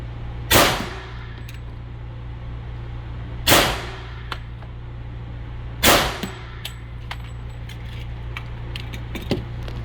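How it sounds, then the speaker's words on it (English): Three evenly spaced sharp shots from a 1911 TRP pistol, each followed by a ringing clang off a steel target, plus a fainter later hit; loud, close and outdoors with no talk. "Danny's now shooting the TRP."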